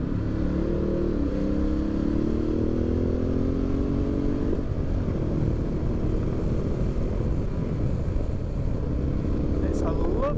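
A Ducati Multistrada 1260 S motorcycle engine revs loudly and steadily up close, its pitch rising and falling with each twist of the throttle, and a deeper rumble holds constant throughout.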